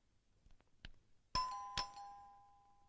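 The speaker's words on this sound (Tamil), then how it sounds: "காலிங் பெல் அடிக்குது" A faint doorbell chimes twice, a ding-dong with ringing tones that fade out, preceded by a couple of soft clicks.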